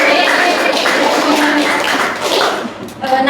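Pupils in a classroom clap together for their test results, a loud, close, uneven patter of hands with some voices mixed in.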